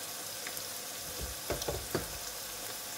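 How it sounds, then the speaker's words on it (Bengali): Curry powder, coriander, cumin and garam masala spices sautéing for beef tripe bhuna, a steady soft sizzle with a few scraping stir knocks near the middle, no voices. "মশলাটাকে ভালোভাবে কষিয়ে নিলাম"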